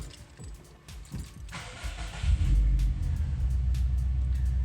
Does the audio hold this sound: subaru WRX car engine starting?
yes